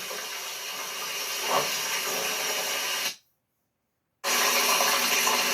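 Chicken drumsticks frying in hot oil in a North Carolina kitchen give a steady, even hiss that cuts out briefly into silence, then resumes at the same level.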